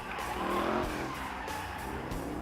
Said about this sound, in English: That sinister engine growl, that throaty exhaust.